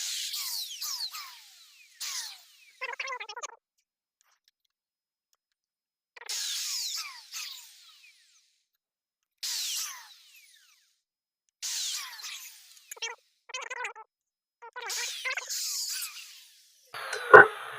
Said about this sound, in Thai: เราจะเจาะตรง